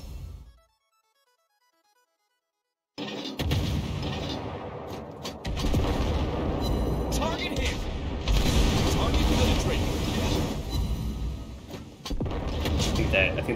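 Sharp gunshots from a video game shooting match, several bursts over a steady rumble of game sound, with people talking throughout.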